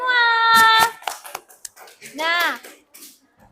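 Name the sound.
applause, clapping hands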